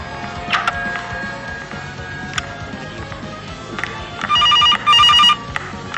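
A telephone rings in a horror video game, two loud electronic rings near the end over faint footsteps and ambient noise, with a few scattered clicks earlier.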